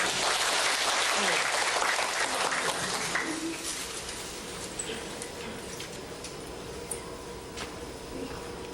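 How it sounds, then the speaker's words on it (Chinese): An audience at a classical studies lecture claps at the close, a strong round of applause that gradually thins and fades into scattered claps, with some voices beneath it. "再一个掌声"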